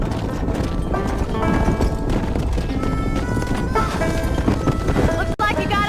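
Horse hooves clip-clop steadily with a whinny amid game music and ambience in Red Dead Redemption, loud and close, with a brief voice heard over it.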